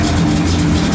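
A 1967 Pontiac GTO engine running, a loud, steady low rumble heard close up with no speech over it.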